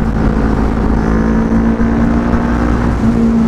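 A big bike motorcycle engine roars loud and steady while riding, a constant close drone with a sustained tone that rises slightly, no talk over it.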